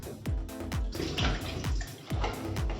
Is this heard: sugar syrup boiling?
yes